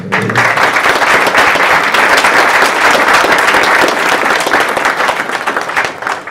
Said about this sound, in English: One more big round of applause for Dan.